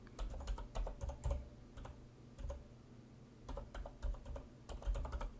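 Keys clack in quick bursts as someone types on a computer keyboard while using Emacs, with short pauses between runs of taps heard close up and no talking.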